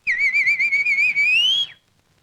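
A single clear, loud, rising whistled call of about two seconds, consistent with a koel bird, standing alone in a quiet scene.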